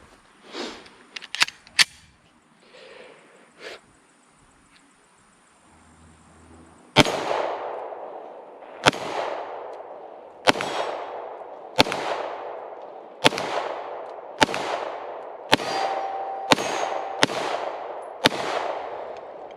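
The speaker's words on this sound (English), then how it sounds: "Just to do one more mag through the CZ P10C. This is with the Spear Lawman, 115 grain TMJ." CZ P10C pistol firing Speer Lawman 115 grain TMJ ammunition: a full magazine of about ten sharp, loud shots at a steady, slightly uneven pace, with a few softer handling clicks and clacks beforehand.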